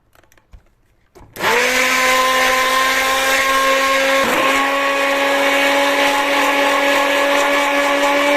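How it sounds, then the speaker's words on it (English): A hand blender switches on and runs steadily through a mix of aloe vera gel and recycled soap pieces, a loud continuous motor whine with a brief dip in pitch midway. "So I'll be running it now with my hand blender"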